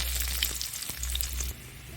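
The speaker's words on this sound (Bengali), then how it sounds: "পেঁয়াজ কুচি দিয়ে দিয়েছি" Chopped onion sizzles in hot mustard oil in a wok alongside dried red chilli and five-spice seeds, a steady close hiss of frying with a low background hum and no talking.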